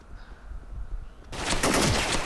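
Rapid automatic fire from an AN94 rifle in a video game bursts in abruptly after a quiet stretch, loud and sustained, with sharp crackling shots in quick succession.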